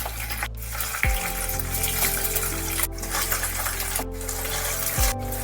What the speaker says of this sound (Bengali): তেল গরম হয়ে গেলে পনিরগুলো দিয়ে দেবো ভাজার জন্য